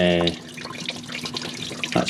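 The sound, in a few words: water draining from car engine pipe into container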